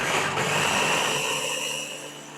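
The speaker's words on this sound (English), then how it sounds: "So we'll pulse this up." Food processor running on an olive oil sauce, a loud close whirring motor hum that holds steady and then winds down, no voices.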